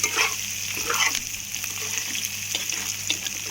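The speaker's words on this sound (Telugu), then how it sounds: "అల్లం వెల్లుల్లి ముద్ద వేగాలి అండ్ కరివేపాకు కూడా" Ginger garlic paste and curry leaves sizzle and fry in a pan for a drumstick and brinjal curry, a steady close crackle with stirring scrapes and a faint background hum.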